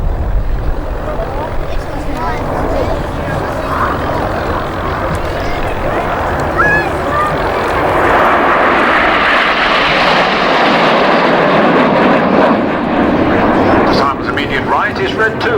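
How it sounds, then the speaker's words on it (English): Red Arrows jets fly overhead in formation, turning left into the Diamond at a Battle of Britain open day at Biggin Hill, their loud roar swelling and holding steady while a commentator talks over it. "the aircraft turn left and change into our signature formation, the Diamond"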